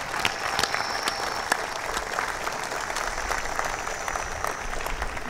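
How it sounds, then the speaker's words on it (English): A graduating high-school class at a commencement ceremony applauds steadily, a dense, moderately faint patter of many hands with a few sharper claps, no talking over it. "Give yourselves a round of applause for that."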